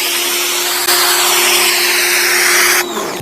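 Mrliance electric pressure washer (3000 psi, 3 gpm) running a surface sweeper over a driveway, giving a loud, steady broadband hiss with a constant motor hum that surges briefly near the start and cuts off sharply at the end.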